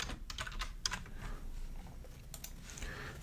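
Fingers type on a computer keyboard while entering a setting in a page builder. Quick, irregular key clicks sound close and clear in short bursts, with no voices.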